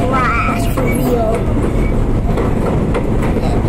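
R32 subway car riding the J train in New York: a loud, continuous rumble of wheels and carriage noise with rhythmic clickety-clack over the rails and a brief high wheel squeal at the start, while people talk quietly nearby.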